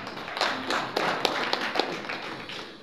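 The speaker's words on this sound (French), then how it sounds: "Vous pouvez vous applaudir." Applause from an audience at a press conference for the Dakar 2026 Youth Olympic Games organizing committee, a brief burst of clapping with sharp individual claps standing out, fairly close and lasting a few seconds.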